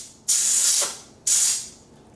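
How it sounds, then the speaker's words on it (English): Two loud bursts of compressed-air dust remover spray hissing close by into a phone charging port, each about half a second to a second long, separated by a short pause. "I'm gonna try to spray it again with the dust remover."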